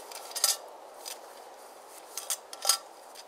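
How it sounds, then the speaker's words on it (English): A metal cooking pot is scrubbed out with moss at a wet bush campsite, a few faint scraping and clinking rubs close by, scattered and irregular against quiet background. "Usually I'll take some moss like this here and just stick it in there and clean my pot with that."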